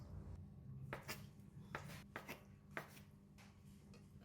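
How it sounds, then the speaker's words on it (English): Quiet knife strokes cut seafood tofu into bite-sized pieces on a board, about half a dozen soft, irregular taps over a low background hum, close but faint. "Cut seafood tofu into bite-sized pieces."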